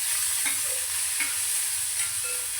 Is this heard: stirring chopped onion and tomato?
yes